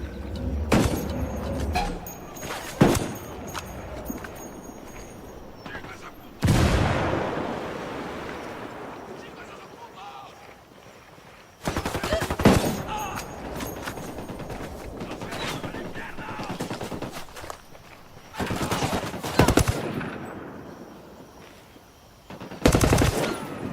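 Bursts of automatic gunfire in Ghost Recon Wildlands, loud and close, come in several separate volleys with quieter gaps and a washing, surf-like ambience between them.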